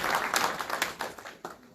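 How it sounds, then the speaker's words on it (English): Conference audience applauds at a closing ceremony, a dense wash of many hands clapping at moderate volume that thins and tapers away near the end. "So please give a big clap for him."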